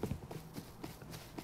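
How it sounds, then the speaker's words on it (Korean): Footsteps in the video game Rust: a quick run of soft, evenly spaced thuds about a quarter second apart, faint and muffled, with no talk. "발소리 났어."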